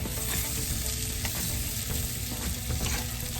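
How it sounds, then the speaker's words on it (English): Onions and garlic sauté in butter for creamy garlic chicken legs, giving a steady, close sizzle with a dense crackle and occasional small pops and stirring clicks throughout. "So we're just going to saute this around in this butter"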